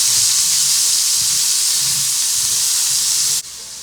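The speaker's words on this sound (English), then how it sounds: "We're going to let this saute for about 3 minutes." Bell peppers, red and green, and onion sizzle steadily in a hot pan with a loud, continuous frying hiss that cuts off abruptly near the end.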